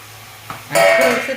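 Hadga (agathi) flowers drop into a hot wok and a bright sizzle bursts up, with a brief scrape of a utensil, close and loud.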